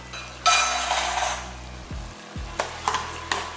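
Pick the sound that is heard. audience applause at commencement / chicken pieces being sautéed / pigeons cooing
chicken pieces being sautéed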